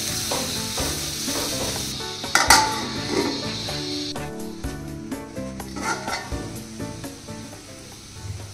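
Curry masala frying in a pan gives a steady sizzle, with a spoon scraping and stirring against the metal and one sharp clank along the way.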